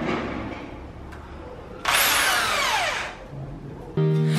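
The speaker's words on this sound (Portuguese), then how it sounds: "Nessa altura, vamos fazer os quatro furos para instalar a prateleira." A power drill bores into a wall for mounting a shelf, one loud sustained burst with the motor pitch falling as it runs, set against a steady room background.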